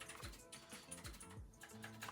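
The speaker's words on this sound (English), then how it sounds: "Got a new clickety keyboard, which it sounds really cool." Clicky mechanical computer keyboard being typed on, a quick close run of sharp, bright keystrokes in an uneven rhythm, heard alone with no talking.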